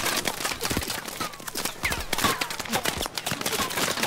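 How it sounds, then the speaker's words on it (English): Video game gunfire from Call of Duty: Advanced Warfare comes as dense, rapid bursts of shots crackling almost without a break, with scattered ricochet-like whines. "Sound of gunfire, it's almost like rain, just a lot more annoying."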